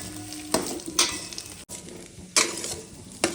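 Muthiya and sesame seeds are stirred in a sizzling pan, with a steady fry hiss broken by a few sharp scraping strokes of the spoon against the pan.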